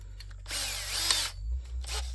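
A power drill fitted with a bit bores into a broken mounting bolt on a Bell feller buncher, whining at high pitch in one strained burst of about a second, then a brief softer spin afterward.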